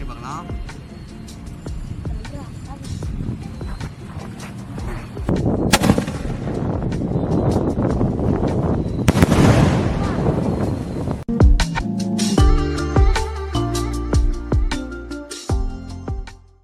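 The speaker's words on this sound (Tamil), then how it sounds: "4 இன்ச்சு பைப்பு தான் வெடிக்க போகிறோம்." Four-inch pipe firework shells fired in an outdoor test go off in several sharp, loud booming bursts with crackling in between, while people talk nearby.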